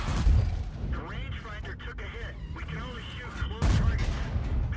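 Tank cannon fire in the World of Tanks game, including a T32 heavy tank shooting nearby: heavy booming blasts with rumbling echoes, one burst near the start and another loud one toward the end, over a busy battle din.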